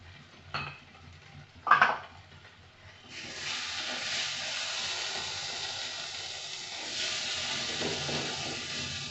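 Tomatoes drop into a hot pan with a couple of sharp clatters, then settle into a steady, moderately loud sizzle and hiss of frying that continues alone to the end.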